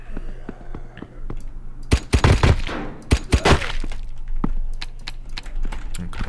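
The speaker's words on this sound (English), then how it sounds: "We should probably be trying to use our pistol instead of our actual gun." Gunfire in the zombie survival video game Aftermath comes as a quick burst of sharp shots in the middle, with scattered clicks before and after.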